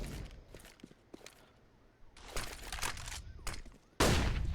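AK rifle gunfire in the game CS:GO during a competitive match, with bursts of rapid shots and a loud burst near the end, interspersed with footsteps.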